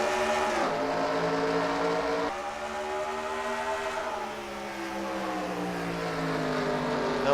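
Race cars roll off at the start of a race at Memphis in a racing video game: engines drone and rise and fall in pitch, shifting several times, steady and moderately loud with no voices.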